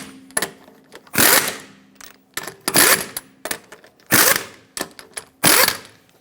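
A torque wrench on a Hyundai Santa Fe rear brake caliper bolts gives a rhythmic series of sharp ratcheting bursts, close and loud, with short pauses between pulls as the bolts are snugged in a cross pattern.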